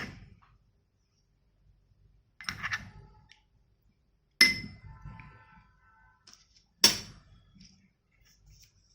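Rice and water stirred in bowls, giving three sharp clinks of a utensil against the bowl spaced a couple of seconds apart, close and distinct against near silence.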